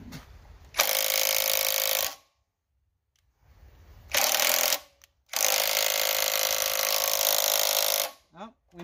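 An AirCat pneumatic tool works on a Predator generator's shaft in loud, harsh bursts of rapid impact hammering, three blasts separated by brief silences and faint hiss, the last the longest.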